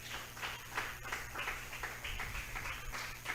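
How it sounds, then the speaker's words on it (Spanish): A church congregation applauding, a dense patter of handclaps that stays fairly even and somewhat distant for a few seconds with no talking over it. "Vamos a brindarle un fuerte aplauso a nuestro Dios."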